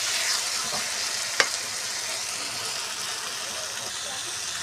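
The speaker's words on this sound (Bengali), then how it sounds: "আমি এইবারে মশলা পেস্টটা এর সাথে মিশিয়ে দিচ্ছি।" Spice paste being stirred into softened tomatoes in a pan for a small fish curry, a steady hiss of sizzling with a sharp scrape of the spoon partway through.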